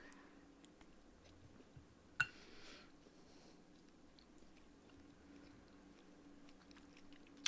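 Soft, close chewing of a Dr. Bronner's chocolate bar, with quiet biting and mouth sounds and one sharper click partway through, in a very hushed setting.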